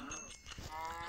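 Cows in a video game moo in a short, low, drawn-out call lasting about a second, close and alone with no talk.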